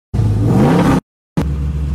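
Engine of a Jeep farm truck offered for sale, loud and close, running in a steady roar for about a second, cutting out briefly, then starting up again with a lower idle rumble.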